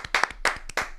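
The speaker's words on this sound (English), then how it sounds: "Let's clap for Miss D." A short burst of applause for Miss D on a morning radio show, several people clapping in quick, uneven rhythm for about a second, fairly close and alone without talk.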